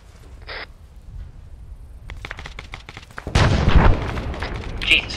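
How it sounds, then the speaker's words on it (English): Gunfire in the military game ArmA 3: distant scattered cracks build into rapid volleys, then a louder close burst with booming impacts, and voices talk intermittently over the firefight. "Taking fire from the south."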